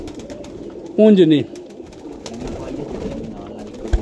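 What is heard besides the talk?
pigeons cooing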